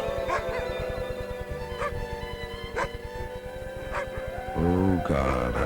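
Huskies howling and whimpering, a steady run of dog calls with yelps and rising wails that swell louder near the end, heard without speech.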